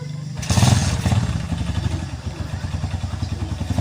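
A motorcycle engine idles and putters close by with a rapid, even chugging beat that steps up in loudness after a brief quieter start, with light clattering mixed in.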